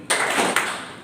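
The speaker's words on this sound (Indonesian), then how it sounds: "Yang laki-laki Amang minta tepuk sekali, perempuan tepuk 2 kali." Young men in a church youth congregation give a single sharp burst of clapping, with a smaller second clap just after, both ringing briefly in the hall before decaying.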